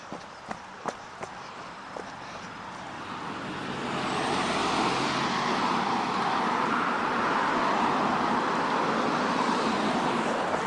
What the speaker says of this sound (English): I apologize in advance for traffic noise